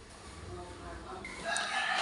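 A rooster crows amid clucking chickens in a yard, the cock-a-doodle-doo rising near the end over a low farmyard background.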